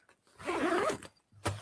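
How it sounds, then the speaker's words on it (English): A zipper on a fabric storage bag is pulled in one long, close rasping run, followed by a brief second tug near the end. "You can see really pulling the wrong zipper there"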